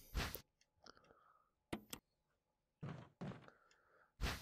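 Pistol ammo being picked up in Resident Evil HD Remaster gives a series of sharp, close game thunks and clicks separated by short pauses, with quiet menu-like ticks between them and no talk.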